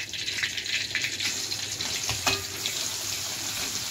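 Pot of koshari pasta boiling and steaming on the stove: a continuous bubbling, hissing wash with small pops and one brief clatter, fairly close and steady.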